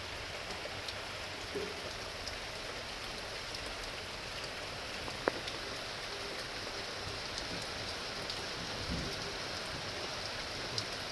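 Steady rain patters continuously on surfaces, an even wash of drops with no voices, close and moderately loud.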